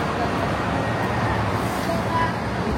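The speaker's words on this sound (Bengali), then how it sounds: "দেখছেন বাস চলে আসছে" A bus pulls up at a stop amid roadway traffic, giving a continuous, fairly loud low engine rumble and road noise over the short stretch.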